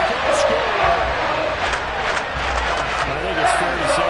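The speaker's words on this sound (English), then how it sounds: "there's nothing that gets a crowd to its feet quite like a big play" Stadium crowd in Madden 22 roaring after a Broncos touchdown, a dense, steady wall of cheering and shouting that holds loud for the full few seconds.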